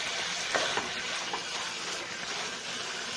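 Chicken stew ingredients sizzle steadily in a pan as they are sautéed and stirred, with a continuous close hiss and a few soft scraping bumps. No voices.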